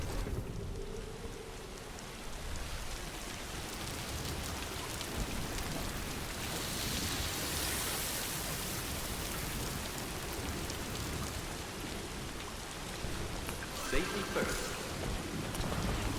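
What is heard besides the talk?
rain falling in the video game Death Stranding 2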